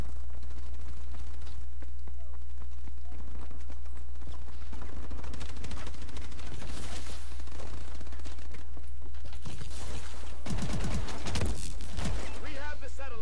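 Gunfire in Call of Duty: Advanced Warfare, bursts of rapid automatic shots and scattered single cracks over a constant low game hum, with in-game voice chatter mixed throughout.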